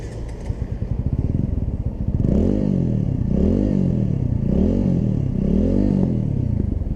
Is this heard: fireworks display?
no